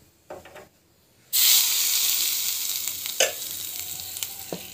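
Mint, mustard seeds and cumin hit a hot pan with a sudden loud hiss that settles into a steady close sizzle, broken by a few sharp stirring scrapes, after a couple of soft clinks at the start.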